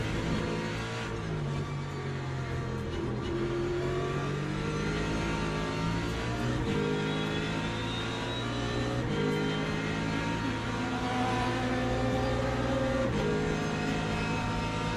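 LMP2 prototype race car engine in a racing video game, a steady loud drone with shifting harmonic pitch as revs rise and fall, with another car's engine layered in over the whole stretch, no talking.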